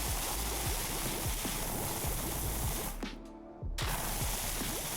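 Pressure washer in PowerWash Simulator 2 sprays a loud, steady hiss of water that cuts out briefly near the end, then resumes at full force.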